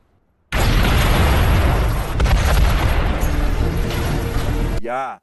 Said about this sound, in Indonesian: mobil milik Pak Direktur meledak dan menewaskannya tepat di depan mata Sean sendiri